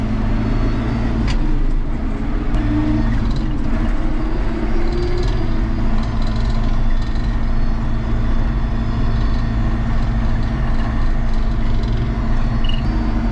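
A tractor engine runs steadily with a bale fork attached, driving out to fetch a bale of feed for the yaks on a farm; a continuous, loud low rumble holds throughout.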